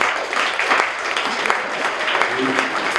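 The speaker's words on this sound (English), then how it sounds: "let's clap it up and thank everyone for participating" An audience at a startup pitch night applauds, a dense, steady burst of clapping with a few brief voices rising through it.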